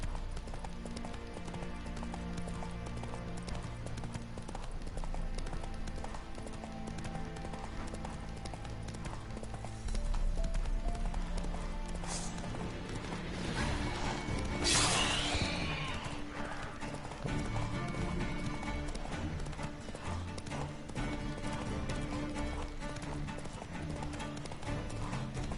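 Hooves of the horse Roach in The Witcher: Wild Hunt, a steady clip-clop of galloping that carries through, with a neigh partway and faint background game sound, all fairly quiet.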